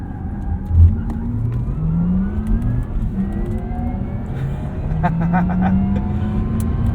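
Porsche Taycan Turbo electric car on a track at the Porsche Experience Center, a close interior whir rising in pitch as it accelerates, with tyre and road rumble underneath.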